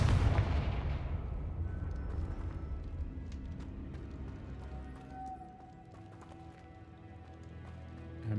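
Confringo blasting spell cast in the video game Hogwarts Legacy, a deep booming explosion that fades into a long rumbling tail with scattered crackles, fairly loud and alone.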